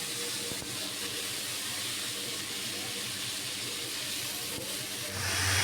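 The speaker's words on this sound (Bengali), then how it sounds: "উচ্ছে আলু ভাজা হচ্ছে আর এদিকে ভাতটা ফুটে হচ্ছে।" Bitter gourd and potato fry in one pan while rice boils in another, giving a continuous moderate hiss and bubbling with faint low rumble throughout.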